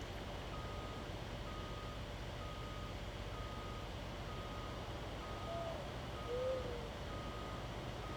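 Repeated electronic reversing beeps from a farm truck backing up in Farming Simulator 19, evenly spaced tones sounding steadily over a constant low engine hum, moderately faint throughout.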